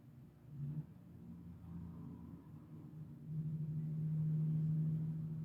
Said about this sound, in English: Truck is going past me right now.